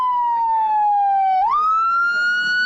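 An emergency vehicle siren wails loud and close, a single steady tone sliding slowly down then sweeping back up, with no talking.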